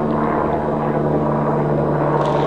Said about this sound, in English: Did you complain about these helicopters to any branch of the government?